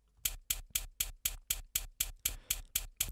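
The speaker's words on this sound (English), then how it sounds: "It's sort of a tapey, could be a hi-hat kind of thing" A dry, tape-textured hi-hat-like sample in Ableton Live's Simpler repeats evenly about four times a second, each crisp noisy tick decaying quickly, alone with no voices.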